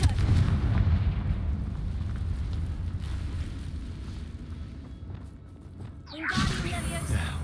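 A Confringo fire spell explodes in Hogwarts Legacy, a loud booming blast with rumbling low-end that fades, then a second burst of crackling fire near the end.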